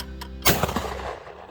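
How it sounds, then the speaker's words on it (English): A circa 1949 Marlin Model 90 20 gauge over-under shotgun fires a single loud, close shot at trap outdoors, with a sharp crack and a short rolling decay. "You got a pretty morning to be shooting some trap."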